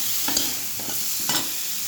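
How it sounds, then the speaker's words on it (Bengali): Spice paste with turmeric powder sizzles steadily in a hot pan while a spoon stirs it, with a few soft scraping strokes over a constant loud frying hiss. "এবারে হলুদের গুঁড়ো আন্দাজ মতন, আস্তে আস্তে করে মশলাটা কষানো হয়।"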